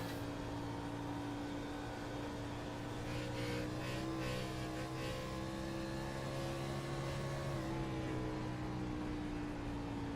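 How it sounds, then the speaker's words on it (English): A NASCAR stock car engine in the iRacing game at Dover drones steadily at a high pitch, with a brief stutter partway through, continuous and loud with no voices. "That's a weird engine noise he's got coming out of that car for Jason Benson."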